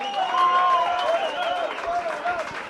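A football crowd at the Veneto Club roars after Bulleen's equaliser, sustained cheering and clapping under a commentator's excited voice.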